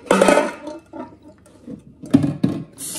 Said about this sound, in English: Simply just pour off hot water.